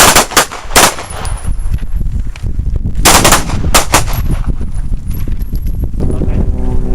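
Rapid handgun shots drawn and fired from a holster on a combat accuracy range, several sharp loud reports in quick bursts with short gaps between them.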